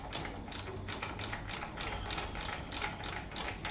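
Socket wrench ratcheting on an old engine, a fast continuous clicking that runs steadily and fairly quietly throughout.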